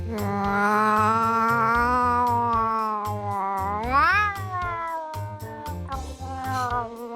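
A voice imitates an angry cat, drawing out a long, wavering yowl that rises into a sharp screech before settling back into a growling moan.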